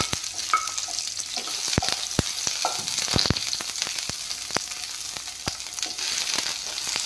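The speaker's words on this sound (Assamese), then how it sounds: "এতিয়া পিঁয়াজখিনি দি ল'ম। এয়া পিঁয়াজখিনি দি দিছোঁ।" Onions frying in a pan for a mung dal tarka, a steady close sizzle with repeated sharp clicks and scrapes of stirring, and no talking.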